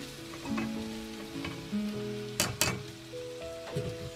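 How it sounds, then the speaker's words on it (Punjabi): Cauliflower tipped into potatoes frying in a pan for aloo gobi, with crackling sizzle under scraping stirs and a few sharp clinks of a spoon against the pan, close and moderately quiet. "ਹੁਣ ਆਪਾਂ ਇਸ ਵਿੱਚ ਐਡ ਕਰਾਂਗੇ ਗੋਭੀ"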